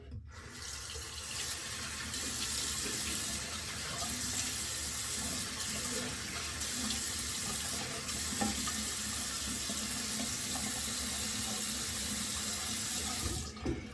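A bathroom faucet runs steadily with cold water for a rinse after a safety-razor shave, a loud, continuous close hiss and splash broken by faint splatters of hands in the stream, no talking.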